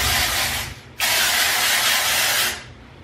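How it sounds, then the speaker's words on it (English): An aerosol can sprays in two loud, close hissing bursts, a short one followed after a brief pause by a longer steady blast. "I'm gonna spray a little bit here"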